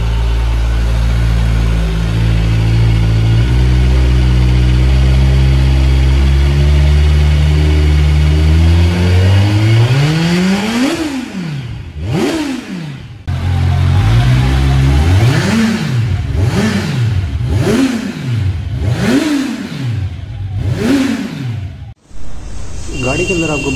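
A Kawasaki Ninja 1000SX motorcycle engine idles loudly and close, then is blipped through a series of sharp rising and falling revs, each one followed by a quick drop back down.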